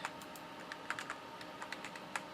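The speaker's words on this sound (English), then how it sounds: "I'm using the WASD keys" Computer keyboard keys, the WASD movement keys, pressed in a quick irregular run of soft clicks, close and fairly quiet, with no voices.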